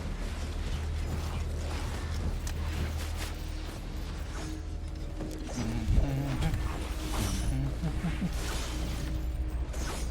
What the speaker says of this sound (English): I hear some kind of creaking noises.